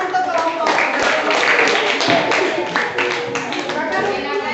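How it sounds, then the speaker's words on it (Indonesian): Schoolchildren in a grade 7 social studies classroom clapping for group 6, uneven, close-up rhythmic hand claps under chatter and talking voices. "Oke, tepuk tangan untuk kelompok 6."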